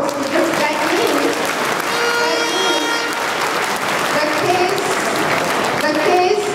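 A round of applause from an audience at a formal meeting fills the space, steady and loud, with voices and cheers mixed in throughout.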